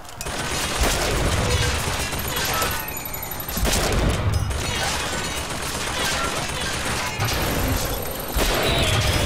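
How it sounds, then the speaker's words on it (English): Rapid bursts of gunfire in Bioshock Infinite, loud and close, with crashing impacts and brief pauses between volleys and a voice heard among the shots. "Shooting."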